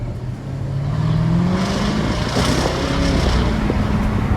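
A sports car in automatic mode pulls away along a bumpy road, its engine note climbing smoothly and then holding a steady drone, heard close and fairly loud from inside, with no one speaking.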